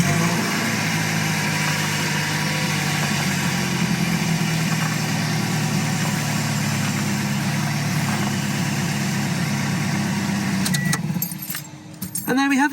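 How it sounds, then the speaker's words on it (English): A Toyota RAV4's engine runs at a steady idle, a continuous low hum heard from inside the cabin, with some light rattling and handling noises near the end. "Let's turn the engine on again just so I can show the steering wheel turning."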